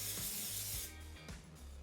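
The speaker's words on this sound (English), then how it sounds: "now I'm going to spray it with a little bit of olive oil cooking spray." Olive oil cooking spray is sprayed onto raw salmon fillets in quick hissing bursts, close and steady, with two or three short pulses.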